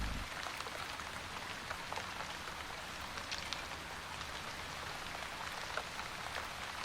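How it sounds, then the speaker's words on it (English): Steady rain falls on surfaces, a dense, even hiss of countless droplets with scattered sharper patters, moderately faint and continuous throughout. "There can't be many places in the universe that experience the miracle of rain."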